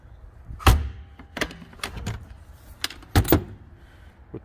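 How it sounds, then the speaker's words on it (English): A swing style feed door on a Bloomer horse trailer being worked, a few close metallic clunks and knocks with brief rattles, separated by short pauses. "Bloomer's standard swing style feed door."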